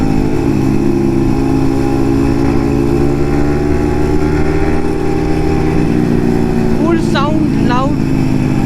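A Yamaha MT-15 motorcycle fitted with an Akrapovic full exhaust idles steadily and loudly close by, with a low throbbing drone throughout and two rising throttle blips near the end.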